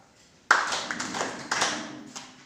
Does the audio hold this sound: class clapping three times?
yes